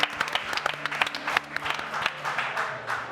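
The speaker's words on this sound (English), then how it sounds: "Let's have a round of applause for our cosplayers!" An audience at RuneFest bursts into brief, dense applause for the cosplayers, with steady clapping throughout.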